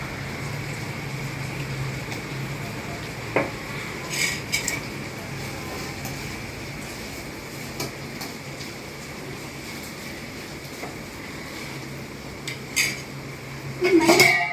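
Onions with a little salt fry in a pan over a steady soft sizzle, with occasional clinks and scrapes of a utensil stirring against the pan, clattering louder at the end.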